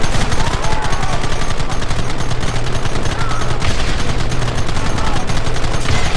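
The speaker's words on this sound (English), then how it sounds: "Gun them down!" Sustained rapid gunfire in the Western video game Red Dead Redemption, a dense, loud, continuous burst of mounted-gun shots over roughly six seconds, with shouted voices faint underneath.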